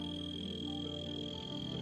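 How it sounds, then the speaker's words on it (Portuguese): Frogs croaking in a dense, continuous chorus, rapid overlapping calls with a steady high insect-like trill above, moderately loud and with no voices. "os animais recorrem a sinais sonoros, como o coachar das rãs"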